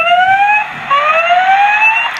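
Toy siren on a children's toy in a toy store, loud electronic wailing tones sweeping upward repeatedly in close succession, sounding alone with no talk.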